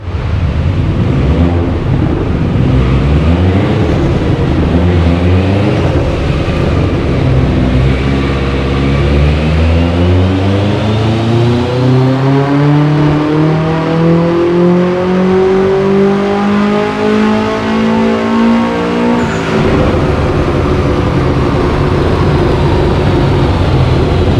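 Subaru WRX STI with Syvecs antilag revving hard during a tuning session, a loud, continuous engine roar climbing and falling in pitch with rough crackling bursts, close and dominating throughout with no talk.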